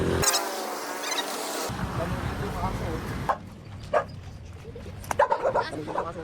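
A dog barks several times in short, scattered bursts, somewhat distant, mixed in with people talking and background noise.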